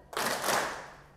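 A group of pupils in a classroom clapping game claps on cue, a short burst of hand claps rising sharply and fading within about a second, moderately near.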